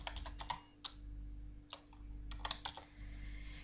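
Keys clatter on a computer keyboard while commands are entered in the Aardwolf MUD text game, arriving in quick bursts of clicks separated by short pauses over a steady low hum.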